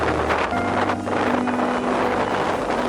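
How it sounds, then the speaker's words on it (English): Strong wind gusts buffet the microphone outdoors on a Lake District fell walk near Buttermere and Crummock Water, a steady loud roar with a faint low drone underneath. "The wind has suddenly whipped up."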